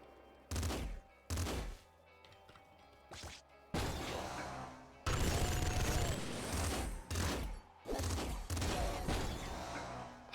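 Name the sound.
hyper rifle gunfire in a video game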